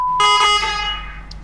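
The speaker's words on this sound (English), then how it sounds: "Please stop honking, ma'am." A car horn honks at a White Castle drive-thru in one long, loud, steady blast that fades slightly toward the end.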